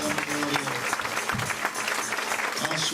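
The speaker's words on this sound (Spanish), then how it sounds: "Dale un fuerte aplauso al Señor." A church congregation breaks into loud, sustained applause, a dense clapping wash that fills the whole moment with a few voices mixed in.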